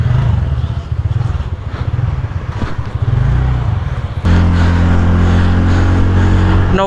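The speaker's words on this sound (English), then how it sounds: "Wow, the sound of NTorq is lovely." A TVS Ntorq Race XP 125cc scooter engine idles with a loud, close, pulsing putter, then is revved up into a steady higher-pitched drone partway through.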